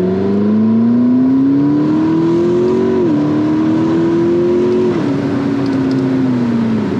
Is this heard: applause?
no